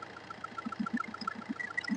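A diesel Tata Manza with the Quadrajet engine runs at a steady idle under light throttle, with a close, even low throb and a faint rhythmic knock. No one speaks.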